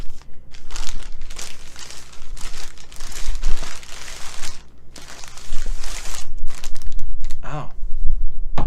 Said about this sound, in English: let's grab the scissors